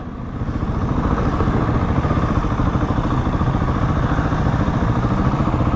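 A group of motorcycles rumbles past on the Ring of Red M60 Remembrance Sunday ride, a continuous loud, close engine drone with clattering texture that builds quickly and holds steady throughout.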